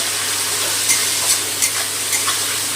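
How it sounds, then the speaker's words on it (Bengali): Shrimp lightly frying in oil with salt and turmeric over a raised gas flame: a steady, close sizzling hiss with a few brief spatters and clicks. "গ্যাসটা বাড়িয়ে দিয়ে নুন হলুদটা মিশিয়ে নিয়ে চিংড়ি মাছটা হালকা করে ভেজে নেব।"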